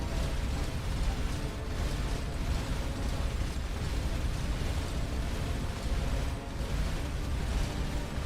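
A cannon is destroyed in the space game Starcom: Unknown Space, a loud continuous roaring, crackling blast rumble that stays dense and steady for several seconds.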